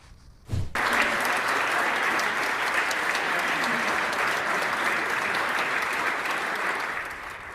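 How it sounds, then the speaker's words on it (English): House lawmakers in the Utah House chamber burst into sustained applause for a colleague, with dense, loud clapping that starts abruptly after a brief thump and holds steady to the end. "That's House lawmakers applauding Representative John Hawkins"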